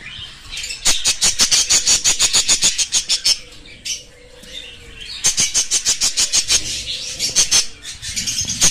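A pair of pied mutation budgerigars chirps in rapid, bright bursts, two dense runs of close twittering calls separated by a brief lull with softer squawks.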